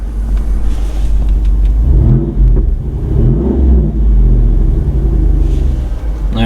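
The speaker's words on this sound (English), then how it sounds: "there's something called performance exhaust. Okay, I don't know if you just heard that, but the rumble just went way up." A 2021 Jeep Wrangler Rubicon 392 with its performance exhaust engaged gives off a deep, loud, close rumble that swells and throbs steadily throughout, with no talking over it.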